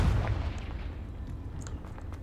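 A deep, rumbling blast from the Confringo fire spell in the Hogwarts Legacy video game, booming loudly at the start then rolling into a long, fading low roar.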